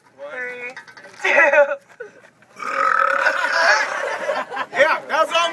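A counselor lets out several loud, drawn-out burps in bursts, with laughter and chatter around them.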